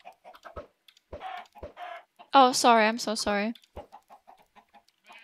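Chickens in Minecraft cluck in short bursts with one louder squawking call in the middle, while a person briefly speaks nearby.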